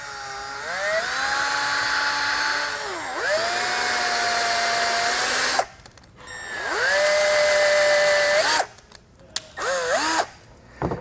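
A cordless drill whines through rubber while holes are made for a BAKFlip G2 hard tonneau cover on a 2022 Nissan Frontier, with several long bursts whose pitch sags and recovers, then short stops and restarts.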